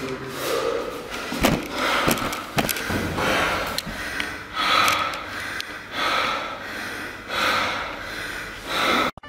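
After a hard workout on a Rogue Echo Bike, someone breathes heavily and close up in repeated deep, rasping gasps and snorting exhales, with a few bumps and knocks between breaths.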